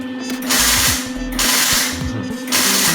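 Welding on a DIY offset barrel smoker gives three loud sustained bursts of crackling, buzzing arc noise, split by short pauses.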